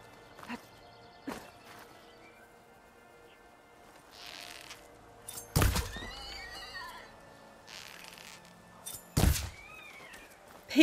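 Mechanical creature noises from a Charger machine dying in Horizon Forbidden West, heard as scattered thuds and a couple of sharp bursts with warbling tonal cries between them, moderately loud against a quiet game backdrop.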